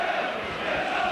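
Leeds rugby league crowd in a 1988 match against St Helens, a dense, sustained roar of cheering from a large stadium audience, steady and loud throughout the short stretch.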